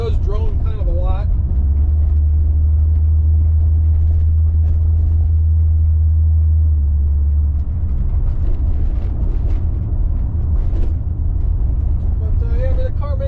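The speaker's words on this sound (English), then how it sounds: "I hope the drone from the Magna Flows isn't too bad back there." Low, steady exhaust drone from a 1989 C4 Corvette with MagnaFlow mufflers, heard inside the moving car, a constant deep hum that persists and swells for a few seconds, with a voice speaking over it throughout.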